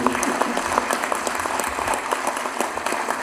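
Audience applause at a debate forum on Africa, a continuous patter of clapping hands with scattered sharper claps, heard throughout under faint voices.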